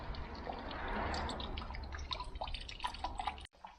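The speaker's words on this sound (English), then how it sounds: "I still get a water leak." Water leaking and dripping from an old 50-year-old petrol Bedford engine, a quiet close patter of drips and trickling over a low rumble, ending in a brief cut.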